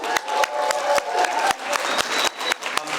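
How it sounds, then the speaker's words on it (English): Audience at a charity gala in Los Angeles clapping together, a steady wash of applause with sharp individual claps popping through, moderately loud and continuous with no talking. "I want to give everybody a round of applause for coming here."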